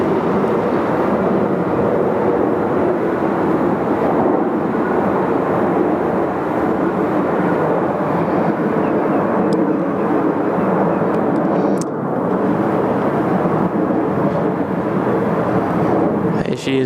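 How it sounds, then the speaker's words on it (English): A Boeing 747-8 passes overhead at Sydney Airport, a loud, broad jet roar holding steady and close throughout, with faint speech beneath it. "747-8 fly overhead"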